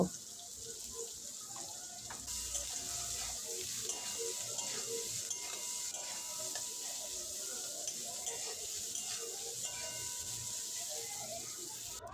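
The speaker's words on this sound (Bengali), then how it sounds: "সয়াবিন ভাজানোর সময় লবণ আর একটু সামান্য হলুদ গুঁড়ো দিয়ে সয়াবিনটা ভেজে নেব।" Soybean chunks fry with salt and a little turmeric in a pan, giving a constant close sizzle with frequent small pops and stirring clatter throughout.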